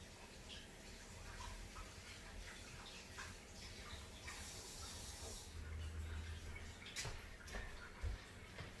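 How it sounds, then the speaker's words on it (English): Warm tap water runs steadily while something is rinsed with antibacterial soap in a catering kitchen, a continuous hiss and splash with a few brief clatters and knocks near the end. "Rinse them off with some warm water and some antibacterial soap that is safe for food consumption."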